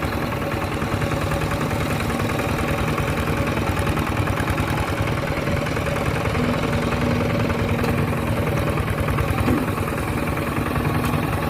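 A vehicle engine drones steadily and close by during a ride home along a rural road, with a continuous, even hum and a vibrating rumble throughout.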